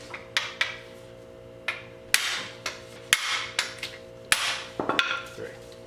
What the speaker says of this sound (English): We're just going to use the impact driver to break these loose